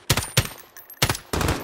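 Four sharp bursts of gunfire in the video game Call of Duty: Modern Warfare arrive in uneven pairs, loud and close, with brief gaps of quiet between them.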